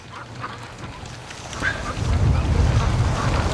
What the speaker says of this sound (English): this wind is brutal